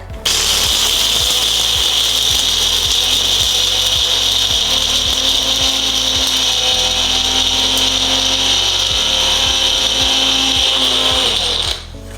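An electric grinder finely grinding pistachios gives a loud, steady whirring drone with rhythmic pulsing underneath. It runs continuously without voices and stops near the end.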